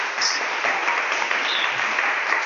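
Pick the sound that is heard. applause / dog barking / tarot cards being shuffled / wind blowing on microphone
applause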